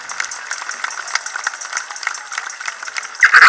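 Crowd at a charity carnival event applauding the organizers from a local association, a steady dense wash of many hands clapping at moderate distance, swelling louder near the end.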